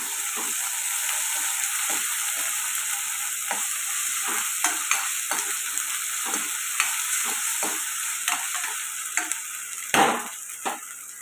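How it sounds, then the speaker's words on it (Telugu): Ginger garlic paste fries in a pan for a tomato brinjal curry, a steady sizzle broken by repeated scraping stirs and one sharper clank near the end, with no voices. "అల్లం వెల్లుల్లి పేస్ట్ కూడా పచ్చివాసన పోయేదాకా ఫ్రై చేసుకున్నాం కదండి."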